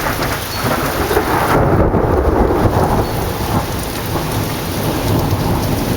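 Thunderstorm in Waco: a loud, broad rumble of thunder rolls under steady heavy rain on surfaces, close and continuous, with no voices.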